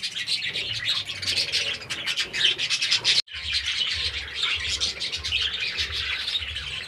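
Parakeets chirp and twitter continuously inside an aviary as females join the males, a dense, busy flock chatter with a brief break near the middle, no voices.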